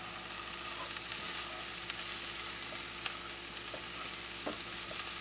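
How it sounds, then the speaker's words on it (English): A saucy meal made from stockpiled foods, seasoned with black pepper, stirred as it simmers in a pot: a steady soft sizzle and bubbling hiss with faint scrapes of stirring, close and continuous, no talk. "Then just stir and simmer."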